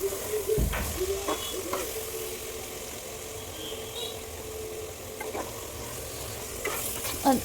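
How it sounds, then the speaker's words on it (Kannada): Mushroom pepper fry is stirred in a pan with cumin powder, a soft sizzle with scattered scraping clicks of the spoon, fairly quiet and close. "ಜೀರಿಗೆ ಪುಡಿ, ಕುಕಿಂಗ್ ಪೌಡರ್ ಆ್ಯಡ್ ಮಾಡಿ ಇದನ್ನು ತಿರುಗಿಸ್ಕೊಳ್ತಾ ಇದ್ದೀನಿ."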